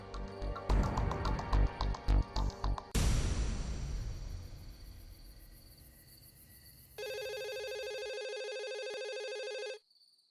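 A telephone rings out as a call is placed, with an electronic trilling tone after a burst of music and a loud crash that fades away. The ring continues steadily for a few seconds and then cuts off.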